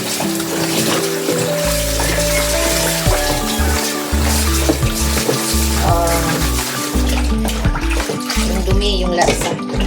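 Running water swirls and splashes as rice is rinsed by hand in a pot, with continuous sloshing and trickling close by while someone talks over it.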